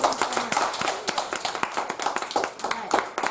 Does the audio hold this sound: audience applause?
yes